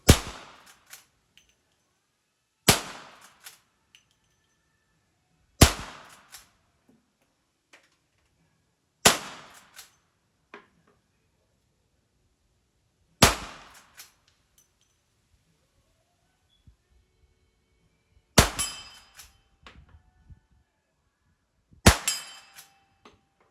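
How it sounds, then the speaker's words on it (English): Seven sharp, loud gunshots from an 1866 Winchester replica lever-action rifle ring out one by one, spaced several seconds apart, each with a short echoing decay and near silence between. "If you want to, we'll shoot this gun too."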